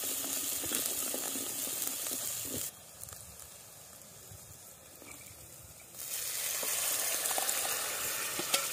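Sizzling tempering for dal with turmeric, cooked on a village wood-fired stove, with a steady frying hiss that drops to a quieter sizzle midway before swelling loud again.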